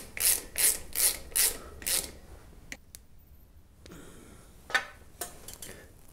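Ratchet wrench tightening clutch screws on a Suzuki V-Strom 1000 motorcycle: a run of five quick clicking strokes, then a pause and a few scattered clicks, close and fairly quiet.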